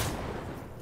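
Gunfire in an online shooter game, a short, dense burst of loud, rumbling shots filling under a second.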